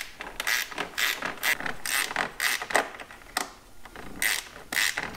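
A ratcheting gear wrench works a 10 mm bolt on the air filter bracket of a John Deere compact tractor, giving rapid close clicking bursts in uneven back-and-forth strokes with short pauses between.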